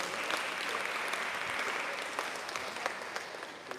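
Applause fills a church congregation, steady dense clapping held near and loud throughout, easing slightly toward the end with no voices over it.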